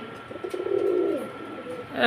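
A pigeon of imported, top-quality bloodline gives a low, throaty coo that swells and fades over about a second, close by, with faint background noise.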